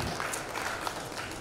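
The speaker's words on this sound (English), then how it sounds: "Let's give them a round of applause." Audience applause for a panel at an investment conference between Uganda and Tanzania, a brief, steady wash of clapping at moderate level with no speech.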